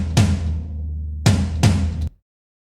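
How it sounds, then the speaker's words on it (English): Extra tracked toms from a standard EZdrummer kit, three deep booming hits, the second and third close together, each ringing out with a low resonant tail before cutting off abruptly. "there's actually some extra tracked toms panned right and left. And those sound like this in my track here."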